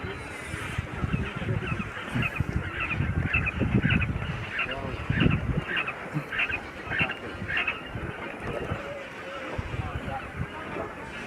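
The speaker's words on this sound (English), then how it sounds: "So this is called Japanese quail." Small Japanese quail chicks call on a poultry farm, a steady stream of rapid high peeps and chirps filling the background while a person talks over them throughout.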